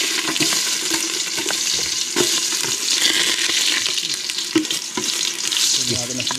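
Garlic sautéing in a pan for papaitan, cooked outdoors on a farm: a steady, loud sizzle and fry with occasional stirring scrapes, running continuously without talk.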